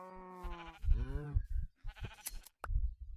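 Sheep in Minecraft with the Gregtech mod bleat several times in quick succession, loud and close, with wavering cries and short gaps between them.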